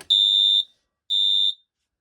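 A Solitaire 1000B payphone rings with two loud, shrill electronic tone bursts, each about half a second long, separated by a short pause and heard alone.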